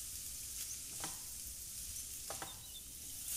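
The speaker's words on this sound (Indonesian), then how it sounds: "Kemudian ini kita aduk-aduk dan tumis sampai kira-kira daging sapinya berubah" Beef stir-fried in a pan, a steady sizzle throughout with a few short scraping stirs, close and alone.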